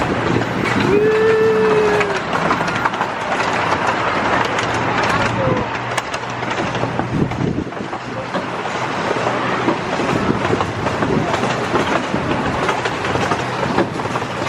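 An amusement park ride train at Knoebels rumbles and clatters past close by, with a brief horn-like tone early on and people talking over the steady rolling noise.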